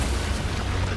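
A grenade explosion in Death Stranding 2 lands as one loud, close, deep boom. Its heavy low rumble fills the short moment.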